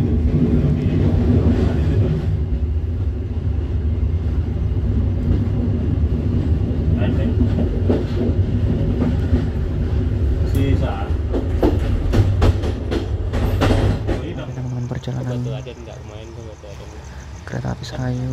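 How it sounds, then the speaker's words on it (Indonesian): The Serayu train rumbles loudly and steadily as it rolls into Bumi Waluya station in Indonesia, with rhythmic wheel clacks and a voice speaking over the noise. "Kereta api Serayu masuk stasiun Bumi Waluya"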